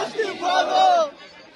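A protest crowd at Jantar Mantar raises a loud, sustained collective shout that swells and holds for about a second before easing into a lower murmur of many voices.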